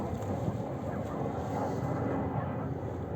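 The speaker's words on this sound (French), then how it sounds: "Encore un avion." Propeller airplane droning overhead outdoors during a radio-controlled rock crawler session, a steady broadband rumble that holds at an even loudness throughout, with wind buffeting the microphone.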